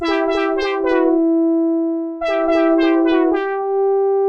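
A synthesizer plays a short rhythmic pattern of bright, buzzy notes, pauses, then repeats it, loud and alone with no voices.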